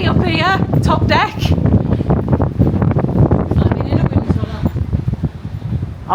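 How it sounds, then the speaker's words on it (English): Wind buffets the top deck of the cruise ship P&O Ventura in loud, gusty rumbles against the microphone, with voices heard through the blustery roar. "A bit windy up here, top deck."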